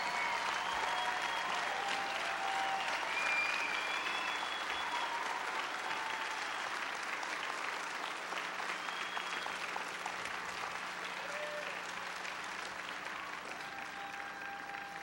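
A large commencement audience applauds faculty members who stand to be recognized, a steady, dense wash of clapping that holds strong for about fifteen seconds and eases only slightly toward the end, with occasional faint whistles or cheers.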